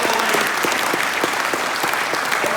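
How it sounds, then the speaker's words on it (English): Applause for the Women Against Pit Closures at a film premiere event in Barnsley, a dense, steady crowd clapping filling the room throughout. "let's a round of applause for them"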